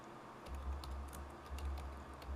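Rapid keystrokes on a computer keyboard while entering a place name into a genealogy catalog search, a steady run of close, crisp clicks with low hum underneath.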